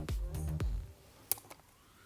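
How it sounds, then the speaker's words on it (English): Apple World Travel Adapter Kit packaging being unwrapped: a few close crinkly, clicky handling sounds early on, then a sharp small tap and light rustles, quiet and with no talk. "Let's unwrap it like this."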